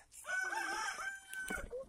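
A rooster crows once in a long, loud, drawn-out call, with a fainter second cry near the end; no one speaks.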